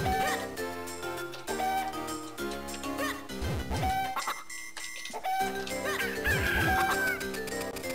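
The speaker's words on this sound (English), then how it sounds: "Grabbing the chickens can sometimes be a pain in the ass." Chickens cluck and squawk repeatedly in The Legend of Zelda: The Minish Cap, their chirpy game sounds layered over bright, looping background music.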